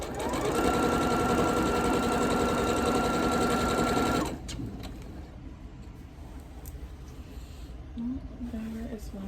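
A sewing machine stitches quilt pieces in a steady, loud whir for about four seconds before stopping, leaving quieter room noise with light handling sounds.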